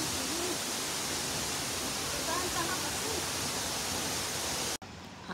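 A waterfall in Oregon roars as a broad, steady rush of falling water, loud and close, then cuts off abruptly near the end to a quieter background.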